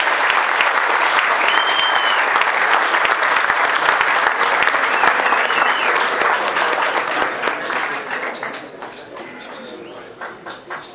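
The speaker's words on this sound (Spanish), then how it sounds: "Un aplauso para todos los niños que estuvieron aquí con nosotros." Sustained audience applause rings out at a national static scale-modeling awards ceremony in Mexico, honoring the children; a dense clapping that fades toward the end, with faint bird calls in the background.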